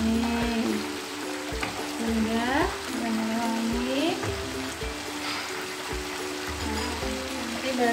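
Fish curry with yellow spices and chilies is being stirred in a pan, giving a steady sizzle with soft scraping and clinking of the spoon throughout. Faint voices murmur beneath the cooking noise.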